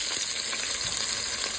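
Meat sears in a hot pan for birria hotdogs, a dense, even sizzle and crackle heard up close and alone throughout.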